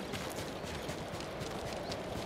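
Hooves thud in a quick, steady gallop as a horse is ridden in Ghost of Tsushima, a muffled, fairly quiet rhythm of hoofbeats under a constant wash of ambient game noise, with no talk.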